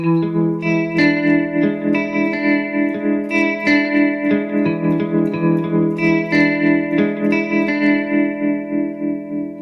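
Electric guitar with a pulsing tremolo tone, run through a tape-echo type effect, playing sustained chords and notes alone with a steady throbbing volume wobble and trailing repeats.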